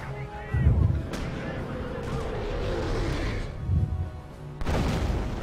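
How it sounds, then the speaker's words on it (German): In the Company of Heroes game, artillery fires with a heavy low boom and a shell whistles through the air, a second deep blast and another sharp report following within seconds over a rumbling battlefield background. "Das Geräusch, wenn es so fliegt, das Geschoss."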